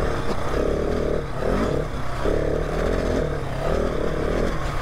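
A 2019 KTM 690 Enduro R single-cylinder motorcycle engine drones loudly and steadily while ridden in the desert, with repeated surges of revving about once a second.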